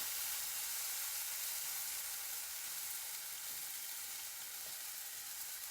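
A banana protein pancake cooks in an overheated pan, producing a constant, even hiss of sizzling batter with no breaks, fairly quiet and close, with no voices.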